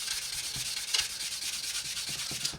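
Abrasive grit paper rubbing over a model's surface in steady back-and-forth strokes, a close, continuous scratchy sanding hiss with slight rhythmic swells.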